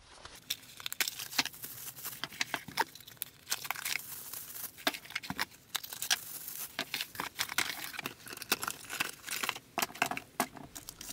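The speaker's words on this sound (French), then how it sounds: "On va finir de déballer tout ça pour tout préparer." Replacement ignition coils for a Mazda RX8 are unpacked, giving close crinkling and tearing of packaging with rustles and light clicks that come in quick bursts, with no talking.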